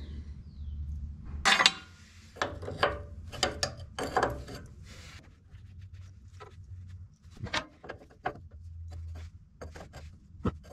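Wrench loosening an O-ring boss hydraulic fitting on an LX565 skid loader, giving a series of irregular metallic clicks and ratcheting bursts, close and fairly loud, separated by short quiet gaps.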